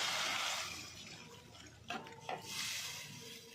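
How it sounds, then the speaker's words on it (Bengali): Chicken soup stock splashes and pours into a pan of fried spices, a steady liquid rush with a couple of short clinks partway through. "মশলাটা ভুনা হয়ে গেছে, আমি চিকেন স্যুপটা দিয়ে দিচ্ছি।"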